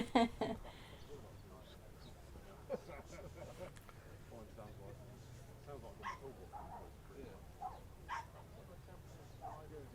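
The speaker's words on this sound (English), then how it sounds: "One of our dogs has just crashed in on the scene." A dog at an outdoor retro and classic car meet lets out a few faint, scattered barks and yips, spaced out over a low background murmur.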